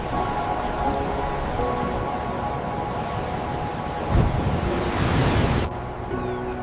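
Steady roar of cold ocean surf at the Giant's Causeway basalt columns, with wind buffeting, a heavier wave surging and crashing near the end before the noise drops back.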